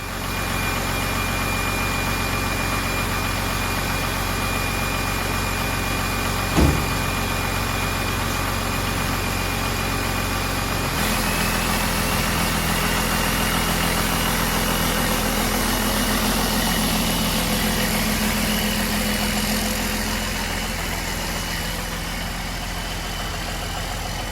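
A Cummins diesel engine fitted in a 1940 truck idles loud and steady for about twenty-four seconds, with a constant low rumble, a single brief knock partway through and a slight shift in tone later on.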